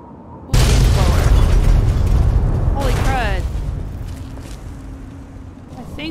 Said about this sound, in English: Protectron got blown up.